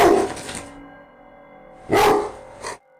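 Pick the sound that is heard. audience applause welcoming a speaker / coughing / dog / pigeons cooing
dog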